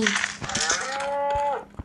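A Minecraft cow lets out a single drawn-out moo, loud and close, with a rising then steady tone that ends abruptly, followed by a faint click.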